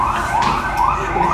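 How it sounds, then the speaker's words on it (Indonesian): A loud fire engine siren wails in rising and falling sweeps, close by and filling the whole clip with no voices. "Pemadam kebakaran."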